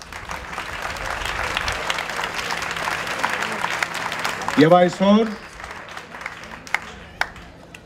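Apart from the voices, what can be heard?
applause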